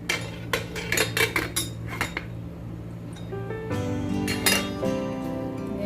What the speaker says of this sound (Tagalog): Ngayon ay takpan po muna natin siya ulit.